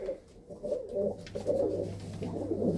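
Pigeons from a Punjabi fancier's collection of expensive pedigree birds cooing in repeated low throaty bursts, fairly close, with a steady low hum underneath.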